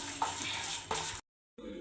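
Curry leaves with a pinch of turmeric frying in a pan give a steady, close sizzle that cuts out briefly near the end and then resumes.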